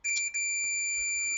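A multimeter's continuity-test beep sounds while soldered connections are checked, a short steady high electronic tone with a brief flutter at the start, clear and isolated against a quiet background.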